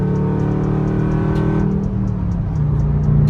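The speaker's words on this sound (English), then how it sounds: "Got a Chrysler 300 with exhaust. I think I've seen it before, but it definitely sounded good driving by." A Chrysler 300 with a loud aftermarket exhaust drives past, its deep, steady engine drone holding strong and close before thinning slightly as the car moves on.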